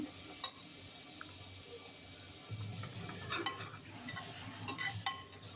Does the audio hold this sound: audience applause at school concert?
no